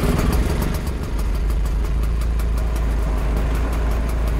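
Hoffmann microcar engine running at a steady, low idle, a continuous close-up drone with a faint rhythmic putter that settles after a brief louder start.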